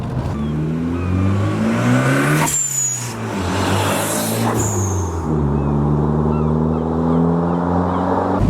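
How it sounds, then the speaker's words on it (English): A Ford Sierra Sapphire Cosworth engine revs hard and drops twice, each lift-off followed by a sharp hissing whoosh from a turbo dump valve, close and loud. "You got a dump valve on there, do you hear?"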